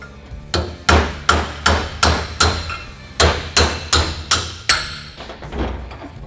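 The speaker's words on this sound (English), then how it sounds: "I'm going to do the rest of it with my chisel to get it off" Steady metallic hammer strikes on a chisel removing an axle bearing collar, about a dozen sharp blows in a quick even rhythm, close and loud with no talking.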